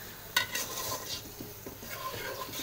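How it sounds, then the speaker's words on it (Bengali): Chicken stirred in a pan of sizzling oil with browned onions, a steady close fry broken by scraping utensil strokes, one sharp clank near the start. "চিকেন দিয়ে এখন নাড়াচাড়া করে নিব।"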